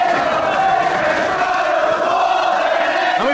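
A wrestling arena crowd split between two wrestlers roars with rival chants. The dense, loud wall of voices keeps up steadily for the whole span.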